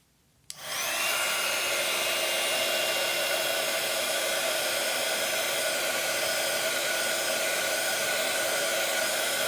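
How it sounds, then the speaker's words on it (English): A heat gun melting embossing powder starts abruptly after a moment of quiet, then blows a loud, steady whooshing roar with a constant motor whine that continues unchanged to the end. "I'm going to heat it up with the heat gun until the magic happens and the gold starts to bloom"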